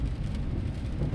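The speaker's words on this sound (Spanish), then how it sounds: "Llueve, llueve." Steady rain drumming on a car while driving on a cold, gloomy day, a dense continuous low wash of noise with no voices.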